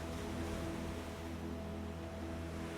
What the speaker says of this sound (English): simply listen to the melody of the ocean.